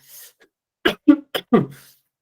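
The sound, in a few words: coughing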